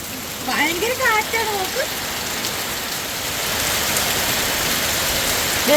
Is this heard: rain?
yes